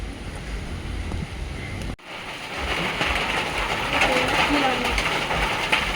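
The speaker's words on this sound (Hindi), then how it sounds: "बारिश आ रही है।" Rain with big drops falls among trees as a steady close patter and hiss, broken by a brief cut before it resumes fuller and louder.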